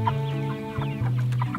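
Six-week-old Cornish cross meat chickens cluck close by, a quick run of short, throaty calls rising and falling over about a second and a half.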